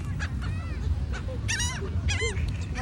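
Birds being fed at Coney Island beach let out several honking, squawking calls in quick bursts, loud and close, over a steady background of wind and surf.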